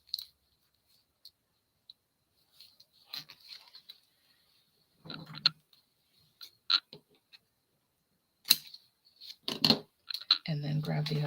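Scissors trimming a paper sticker border on a scrapbook page, a few soft, sparse snips and clicks scattered among quiet gaps, close up, with some brief handling rustle toward the end.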